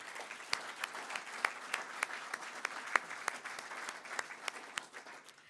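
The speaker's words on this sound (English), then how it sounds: "A round of applause for them" Lunch guests at a chamber of commerce business lunch applaud together: a steady, even wash of many hands clapping in a room, fairly soft and unbroken for several seconds, with no talking.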